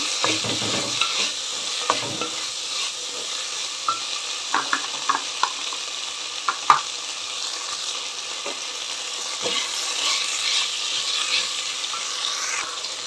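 Mango pieces stirred through a sizzling pan for vegetable samal (little millet) khichdi, a steady frying hiss with scattered spoon scrapes and light clinks, sharper knocks near the middle, no voices.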